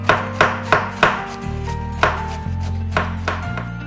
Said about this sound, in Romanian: Toci frunzele de țelină?